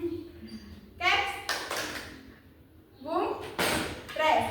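Group of children clapping hands together in bursts during a classroom group game, with two loud broadband claps about two seconds apart over a noisy room.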